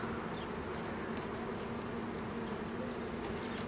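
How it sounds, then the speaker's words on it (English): A swarm of bees in Delano, California, roughly a four-pound ball, buzzes in a dense, continuous, close drone with no talking. "4 pound ball of bees"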